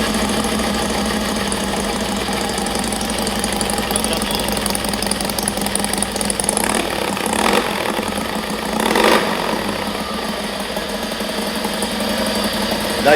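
A Softail motorcycle fitted with a new Cycle Visions Baggertail exhaust runs steadily at idle, a continuous loud engine rumble throughout with a brief rise in the middle and no speech.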